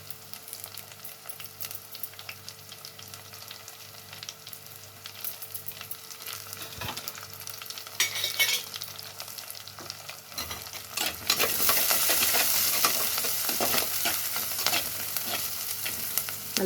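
Onions sauté in a pan for a village-style anchovy fish curry, with a steady sizzle and frying hiss plus occasional stirring scrapes, the sizzle swelling louder and brighter partway through as the pan heats up.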